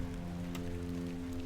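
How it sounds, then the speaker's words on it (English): Soft, steady rainfall patters on a surface, faint and continuous, under a low humming tone with no talking, in the video game The Excavation of Hob's Barrow. "It's raining."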